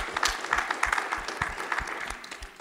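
At a green hydrogen youth working group assembly, a crowd applauds in a short, steady round of clapping, many hands at moderate distance with individual claps audible throughout.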